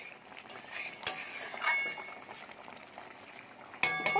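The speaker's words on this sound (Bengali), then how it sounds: "এটা তরকারিটা ফুটছে টকবক টকবক করে" A pot of curry bubbling on the stove, a soft, steady simmering hiss with a couple of sharp metallic clinks from a utensil.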